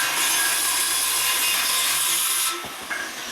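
A jigsaw cuts through wood with a steady, loud, buzzing rasp that runs for over two seconds, then stops abruptly, leaving a brief clatter and a quieter hum.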